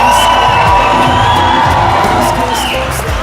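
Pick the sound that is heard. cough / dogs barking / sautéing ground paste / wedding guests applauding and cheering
wedding guests applauding and cheering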